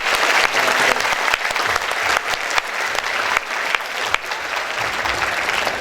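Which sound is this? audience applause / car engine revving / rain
audience applause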